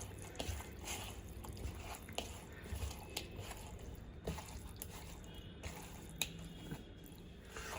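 Spices being stirred into a yogurt marinade, giving soft squishy, wet mixing sounds with occasional clicks, steady and fairly quiet and close, with no talking.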